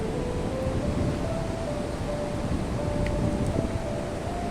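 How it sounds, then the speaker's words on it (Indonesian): Wind and big surf at Watu Karung beach, a broad continuous roar of waves and gusting air heard close and steady, with a faint tonal hum running beneath. "bertiup sepoi-poi dan ombak tampak begitu besar"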